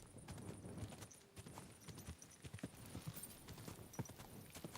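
Hooves clatter in a fast, uneven rhythm as a horse is ridden through a dark night area in Kingdom Come: Deliverance II, close but quiet throughout with no talking.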